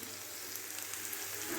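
Small anchovies (nethili meen) coated in masala fry in hot oil, a faint, even crackling sizzle hissing steadily throughout with no talking.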